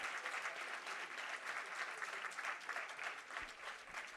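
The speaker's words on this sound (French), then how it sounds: "On peut l'applaudir." Guests at a local liqueur makers' cocktail presentation applaud the presenter, a fairly faint but continuous crowd clapping that holds steady for a few seconds.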